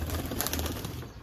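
Several pigeons coo softly and continuously at close range in a brief, dense burst of overlapping low calls, with no voices.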